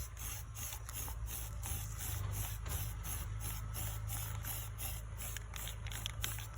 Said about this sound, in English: So you want to do quick light sprays like this.